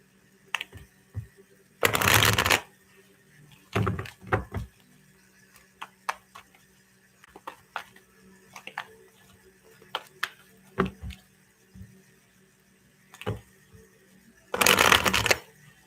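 Several bursts of riffled tarot cards being shuffled, short crisp flurries spaced apart with soft tapping and handling sounds between them, close up.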